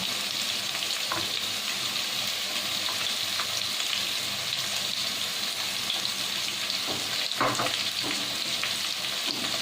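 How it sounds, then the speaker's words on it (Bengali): Continuous sizzling of potatoes and onion frying in a pan, with occasional scraping stirs and clinks throughout. "এরপর আমি আলুটাকে ভালোভাবে ভাজা ভাজা করে নেব।"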